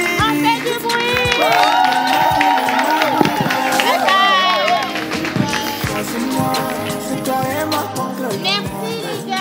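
A lively crowd at a stage show cheers and claps for King Luca. The shouting and applause are loud and continuous over music, with children's voices and a host talking underneath.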